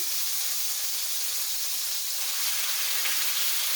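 Pork chops brown in a hot pan, giving a steady, loud, broadband sizzle and hiss that holds evenly from start to finish with no talking.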